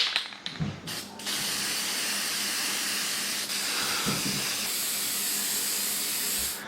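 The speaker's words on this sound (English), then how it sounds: "And a couple hits of spray lacquer." A steady, continuous hiss of lacquer spraying from an aerosol can runs for several seconds after a few brief rattles, loud and close.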